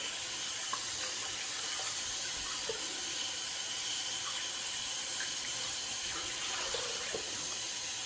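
Water runs from a tap in a steady, even hiss to rinse off shaving soap, with faint splashes and clinks mixed in.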